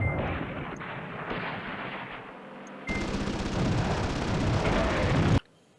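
Loud, continuous artillery bombardment in the Command Ops 2 wargame, a dense rumble of overlapping blasts and gunfire that steps up in intensity midway and then cuts off abruptly near the end.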